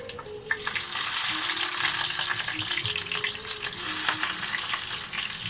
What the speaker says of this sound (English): first thing I want to do first is onions in